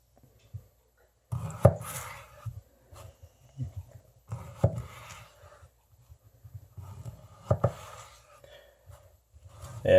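A Kabar Mark 1 bushcraft hunting knife cuts through carrots in close, crunchy bursts: one at a time at first, then clusters of quick chops separated by short pauses.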